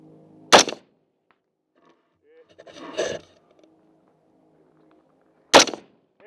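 Two sharp, loud rifle shots aimed at a 200-yard target crack about five seconds apart, nearby, with quieter rustling and a faint voice between them.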